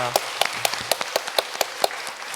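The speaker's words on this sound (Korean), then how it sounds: "하나님께 감사와 영광의 박수 올려드리겠습니다" Church congregation clapping at the close of a Sunday worship service, a short run of evenly spaced, fairly close claps in a steady rhythm, with low murmuring underneath.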